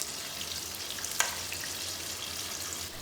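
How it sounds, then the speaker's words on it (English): Tofu frying on medium heat in a pan for a vegan tofu varuval, giving a steady close sizzle with one brief sharp crackle partway through and no voices. "Next, we will fry the tofu."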